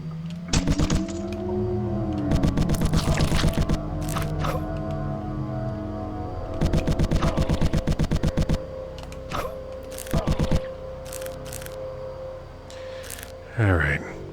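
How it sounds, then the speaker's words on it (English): Machine gun teeth weapon firing in the game Reverend, rapid rattling bursts of clicking shots in several separate volleys over a steady low background hum. "machine gun teeth"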